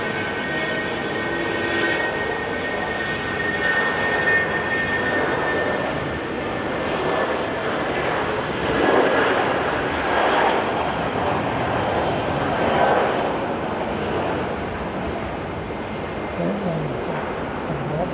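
An airliner takes off at Auckland International Airport, a sustained broad roar of jet engines heard from a distance over the whole stretch, swelling slightly in the middle, with speech underneath.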